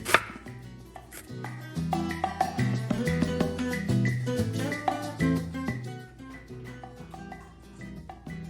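Thin cabbage slices being cut with a knife for a tangy cabbage salad, a steady run of crisp chops on a cutting board, close and fairly loud, with no talking.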